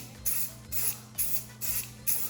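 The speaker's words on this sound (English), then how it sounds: "Good way when you're spray painting to make sure it's nice and even is to start past and then go over before" Spray paint hisses from an aerosol can in five evenly spaced bursts of about a quarter second each, close and crisp, with short pauses between passes and no talk.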